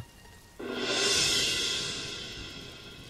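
A cartoon rainstorm with thunder: a sudden broad rushing roar bursts in after a quiet start, swells loudly, then slowly thins as the downpour carries on.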